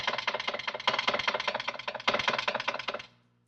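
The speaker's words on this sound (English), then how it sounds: "An old typewriter." An old typewriter sample from the Heaviocity Machina percussion library clacks in rapid, crisp, evenly paced strikes for about three seconds, then stops abruptly.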